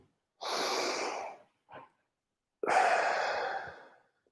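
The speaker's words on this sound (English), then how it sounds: "breathe in through the nose and breathe out through the mouth" Two slow, deep breaths, each a long, airy intake through the nose and a steady exhale out through the mouth, close and quiet in a calm room, with a short soft sniff between them.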